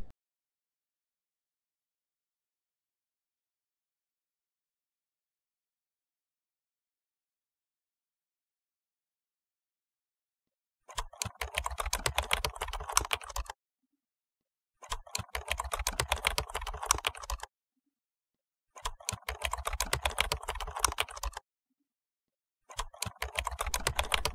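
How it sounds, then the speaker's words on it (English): Typing on a computer keyboard while writing Python code, heard as four separate bursts of quick, close key clatter with silent gaps between them after a long silence at the start. "So let me type in the initialization script, which is the creating screen script."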